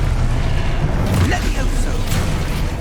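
Confringo blast spell in Hogwarts Legacy, a deep booming burst amid rumbling combat noise, loud and close, with a brief swishing cast sound and a shouted voice.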